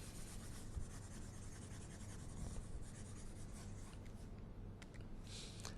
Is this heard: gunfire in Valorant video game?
no